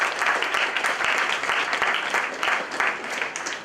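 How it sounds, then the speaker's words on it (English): An audience at a business school panel discussion claps in a moderately loud, steady round of applause, dense and continuous with a few sharper individual claps standing out. "You can give a bigger, louder round of applause."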